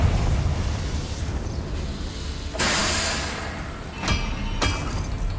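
Spell blasts from Confringo going off in Hogwarts Legacy: a loud sustained burst of rumbling noise, followed by two sharper cracking bursts a second apart, over steady game ambience.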